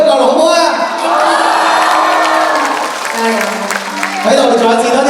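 A crowd of fans at a birthday celebration applauds and cheers in a sustained loud roar of clapping, whoops and shouts, with a voice speaking over it.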